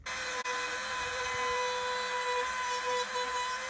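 A freehand router makes a test cut in a wooden door jamb, a loud, steady high-pitched whine that runs continuously and close by for the whole stretch.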